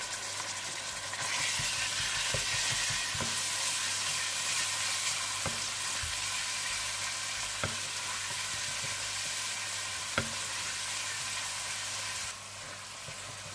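Steady sizzling and crackling of ginger and garlic frying in a hot pan for chicken and potato curry, with occasional sharp clinks of a utensil against the pan.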